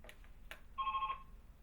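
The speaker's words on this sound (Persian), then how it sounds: "میبخشین که تلفن آمد" A telephone rings during a television call-in program, a short electronic trill that sounds once against a quiet background after a couple of faint clicks.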